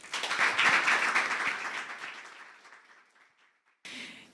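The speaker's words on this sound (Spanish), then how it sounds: "Un aplauso, por favor." An audience at an academic forum on euthanasia claps, loud at first and then tapering off gradually. After a brief silence, a short burst of clapping returns.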